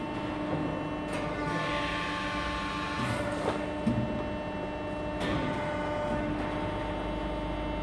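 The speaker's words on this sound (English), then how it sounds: "We push execute on the control and the machine will set itself up ready for the bend." An IntelliFab press brake with an E21 control sets itself up for a steel bend, giving a low steady machine hum with faint whirring and a few soft clicks and thuds as it positions.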